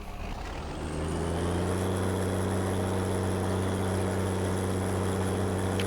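Simulated Fiatagri 180-90 tractor engine in Farming Simulator 19 rumbles steadily at a constant idle, a deep droning hum with a clear low pitch that swells slightly at the start and then holds loud and even throughout.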